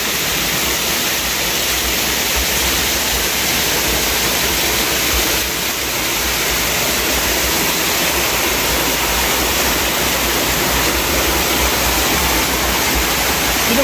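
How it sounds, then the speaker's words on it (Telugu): A small waterfall pours steadily, its broad, dense roar continuous and close for the whole stretch, with no voices over it. "ఇది ఒక చిన్న వాటర్ ఫాల్ అన్నమాట"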